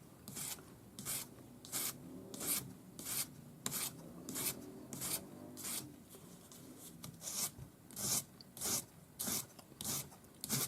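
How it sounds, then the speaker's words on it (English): A ring bezel is sanded with 400 grit paper on a sanding stick, making quiet, rhythmic rasping strokes that repeat steadily, close up, with no talking. "then take your 400 gray paper on your sanding stick"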